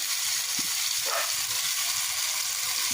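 Cumin and coriander spices fry in oil for a fish curry, giving a continuous close sizzle with a faint stir, and no one speaks.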